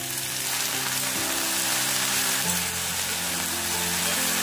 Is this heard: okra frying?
yes